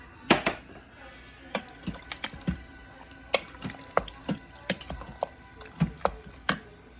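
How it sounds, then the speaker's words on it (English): A large can of tomato sauce stirred into chili in an Instant Pot: soft wet squishes and scattered light clicks of a spoon against the pot, fairly quiet and irregular, with no talking. "I'm also going to add 1 large can of tomato sauce. And give it a good stir."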